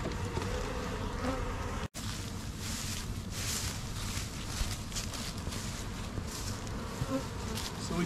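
Dense, steady buzzing of many honeybees close by in freshly filled queen-mating nucs, continuous and loud, with one very brief dropout early on.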